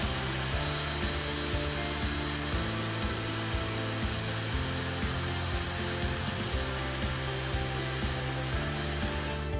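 An Airsled air-powered appliance mover blows air beneath an elevated laundry washer, a loud continuous blower whine and rush that holds steady throughout with no speech.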